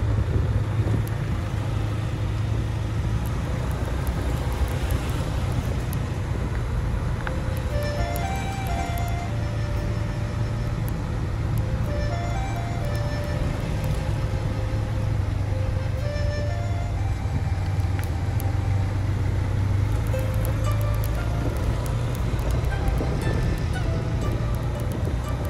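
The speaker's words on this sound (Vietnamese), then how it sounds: "Xe quá trời luôn, kẹt xe luôn" Heavy road traffic jammed around a funeral procession in Binh Duong, a dense steady rumble of many engines with scattered honks and a repeating melodic horn or jingle rising through the din.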